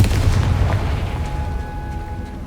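A Confringo fire spell explodes in Hogwarts Legacy: a single heavy, rumbling blast that opens loud and slowly fades over a couple of seconds, with no voices.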